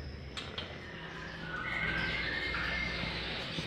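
White-rumped shama (murai batu) fledglings call from outdoor breeding cages, with short squawking cries rising over a low background hum and growing louder and more sustained midway.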